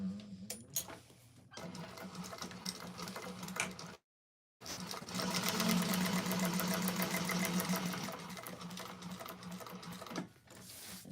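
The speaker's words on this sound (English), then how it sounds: "we're going to go ahead and top stitch down this side, across here, and up again" A sewing machine top stitches a bag lining, running in steady bursts of motor whir with a rapid needle rhythm, then a brief pause and a longer continuous run before slowing to a stop, close and clear.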